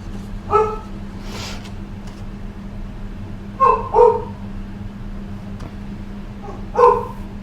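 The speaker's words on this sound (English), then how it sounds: "the barking dog" A dog barks in three short bursts of two or three close yips each, spaced a few seconds apart over a steady low hum, fairly near and loud, with no talk.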